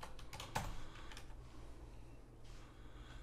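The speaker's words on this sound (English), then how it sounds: "I'm going to just type this number right here for now." A number typed on a computer keyboard, a brief burst of soft key taps near the start and then quiet room tone.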